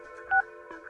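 A short electronic telephone dialing tone beeps once, clear and close, with a faint steady hum underneath.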